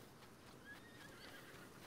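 A horse in Zelda Breath of the Wild whinnies, a faint brief neigh with clip-clop hoofbeats under it.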